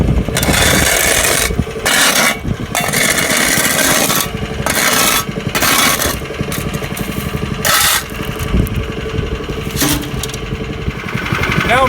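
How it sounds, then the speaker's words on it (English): A shovel blade scrapes and rasps along the edges of a fresh asphalt patch in a parking lot depression repair, loud and close, in repeated gritty strokes with short pauses between them. "I'm just going to trim off the edges just using a shovel"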